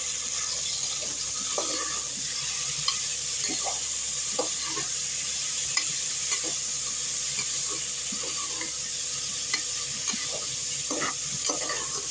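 Ivy gourd sautéing with shallots and curry leaves in a pan, a continuous close sizzle and frying hiss with occasional soft stirring scrapes and clinks throughout.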